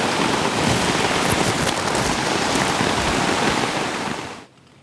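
Steady, dense rain falling outdoors in the Quebec woods during a bear hunt, a continuous loud hiss that runs for about four seconds and then cuts off abruptly.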